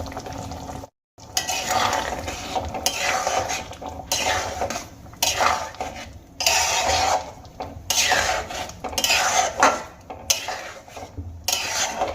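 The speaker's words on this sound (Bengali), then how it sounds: "ভালো করে আমি গ্রেভির সঙ্গে মিশিয়ে নিয়েছি" Pieces being stirred into spinach gravy in a pot, with a utensil scraping and knocking against the metal in repeated close strokes, a wet sloshing underneath and brief breaks between strokes.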